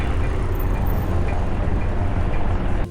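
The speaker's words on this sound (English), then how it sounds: "On the train ride home," Steady rumbling interior of a passenger train riding home, a loud continuous low roar of wheels and carriage noise without talk.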